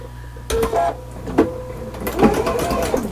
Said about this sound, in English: So let me quickly sew this together.